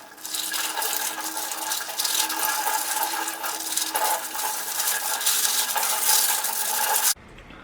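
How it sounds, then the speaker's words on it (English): Plastic packets being washed under running water, a loud continuous splashing and rinsing with crinkling plastic handling, close up, ending abruptly after about seven seconds. "What you do is like you wash it properly. You can apply some like soap also, like you can just wash it properly so that the smell goes off."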